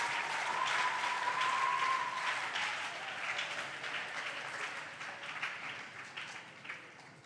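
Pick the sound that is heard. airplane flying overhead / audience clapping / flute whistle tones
audience clapping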